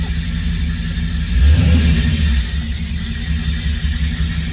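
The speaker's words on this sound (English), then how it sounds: "And they got this belt that's whining, and it'll shut off though." A 1949 Chevy engine runs loud and close with a low rumble and a brief rev in the middle; the belt whine is not clearly distinct under the engine noise.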